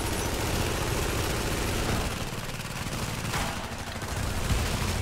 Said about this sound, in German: die schießen sich auch gegenseitig